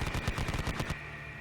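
A .50 caliber machine gun fires a rapid burst of about a dozen heavy rounds in steady rhythm, loud and close, then cuts off into a fading ring.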